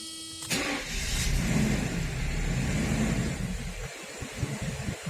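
A car engine cranks briefly and catches, then runs on at a steady, slightly lumpy idle, close and fairly loud, with an uneven pulse toward the end.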